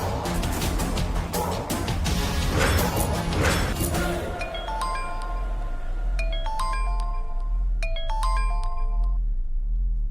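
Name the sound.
phone ringing on an outgoing call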